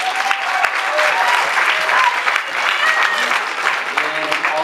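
Loud, close applause from a high school battle of the bands crowd, thick continuous clapping with some voices mixed in and a faint tone threading through.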